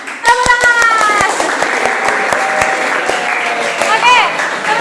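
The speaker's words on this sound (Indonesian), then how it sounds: "Tepuk tangan." A classroom of students in an economics lesson claps, with sharp separate hand claps ringing out at a loose rhythm over mixed voices and chatter, some of it loud and close.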